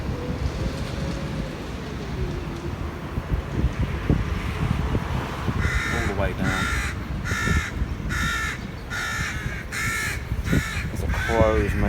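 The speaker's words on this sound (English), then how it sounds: "There's a crows making lots of noise." Crows cawing outdoors at Cottenham, Cambridge, a run of harsh repeated caws rising in the second half over steady wind noise, while someone talks quietly throughout.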